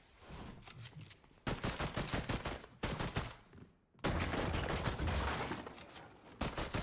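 Bursts of rapid Fortnite gunfire crackle loudly in the foreground, several volleys with short gaps between them and no talk over them.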